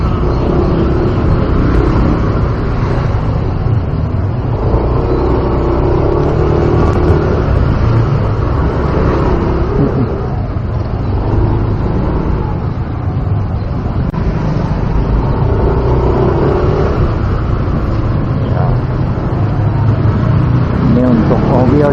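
A motorbike rides through cramped Jakarta streets and residential alleys, a continuous loud wash of engine and road noise with passing traffic swells, and voices mingle underneath.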